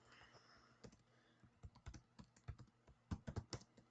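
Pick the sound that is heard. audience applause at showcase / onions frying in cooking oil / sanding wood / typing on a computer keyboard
typing on a computer keyboard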